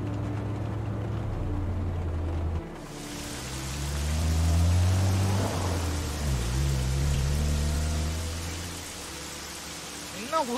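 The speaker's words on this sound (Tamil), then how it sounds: "24 மணி நேரம் மழை பெய்யுது" Rain falls steadily in the video game Heavy Rain, a continuous soft hiss beneath low rumbling tones that swell and fade, with no one talking.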